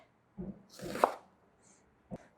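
A knife cutting through a piece of onion on a board, two or three close, crisp strokes with a brief juicy crunch, quiet between cuts.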